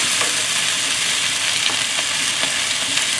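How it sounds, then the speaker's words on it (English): Steady, dense sizzling of vegetables, including string beans, stir-frying in a hot frying pan, continuous and close, with faint stirring scrapes and no voices. "Simple stir fry, very healthy."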